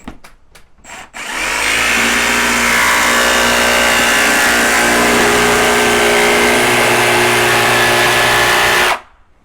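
A Milwaukee M18 Fuel brushless D-handle jigsaw with its blower setting on runs at a loud, steady whine for about eight seconds, after a few short clicks, then stops abruptly; no one talks.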